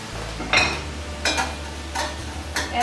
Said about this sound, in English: I'm going to turn off my heat and add the broth to release from the bottom of the pan